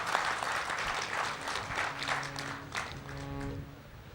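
An audience at a yoga meditation camp applauds for a guru, a steady wash of many hands clapping at a distance that gradually thins out, with a faint voice emerging near the end.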